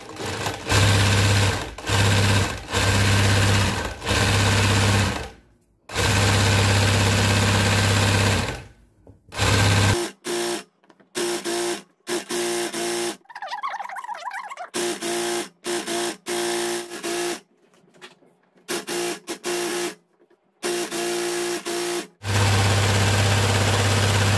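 A sewing machine stitches cordon rows on a table runner, running in loud, close bursts of rapid mechanical chatter. Short pauses and longer silences break the runs, and the cloth shifts during the gaps.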